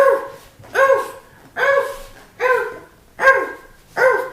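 A dog barks six times in an even, steady rhythm, each bark loud, close and clear, with short quiet gaps between them and no talking.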